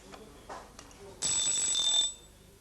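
An alarm clock's bell rings in a brief, bright, close burst of under a second as its escape wheel and pallets are oiled, preceded by a few soft mechanical clicks and handling noises.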